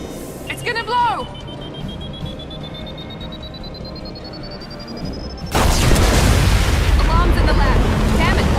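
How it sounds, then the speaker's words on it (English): Lab alarms in the video game Mass Effect 2 give a thin, steadily rising electronic tone for several seconds, then a sudden loud, dense roar of noise takes over. "Alarms in the lab."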